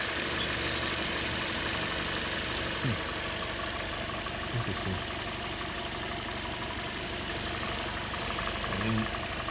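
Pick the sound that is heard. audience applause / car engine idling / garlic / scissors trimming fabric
car engine idling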